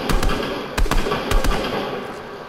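A rapid string of sharp gunshots at a supply drop in Fortnite, several quick cracks in bursts over a steady game background.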